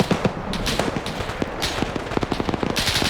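Rapid machine gun fire bursts with scattered gunshots in a PvP military video game match, loud and dense, repeated volleys throughout.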